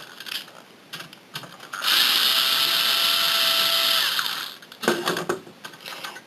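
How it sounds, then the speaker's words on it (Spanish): Phillips screwdriver working the hard drive screws out of a PlayStation 3 40GB/60GB console, a steady whirring run of about two seconds between light clicks and handling taps, close and alone. "Ahora, para quitarlo, un destornillador estrella."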